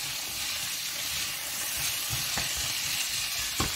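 Peppers seasoned with piment d'Espelette fry in a pan for poulet basquaise, giving a steady close sizzle and hiss with a few soft stirring knocks and no talk.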